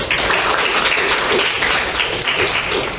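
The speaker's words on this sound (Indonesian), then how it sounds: "Kasih tepuk tangan untuk kita semua" Students in a history class clapping together at the end of a lesson, a continuous, even burst of applause filling the moment, close and fairly loud.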